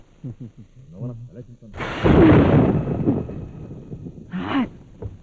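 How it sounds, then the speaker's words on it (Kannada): A sudden loud thunderclap from lightning in the rain crashes and rumbles for a couple of seconds, with people talking before and after it. "ಹೊರಗೆ ಮಳೆ ಬರ್ತೈತಲ್ಲ ಅದ್ರ ಮಿಂಚು"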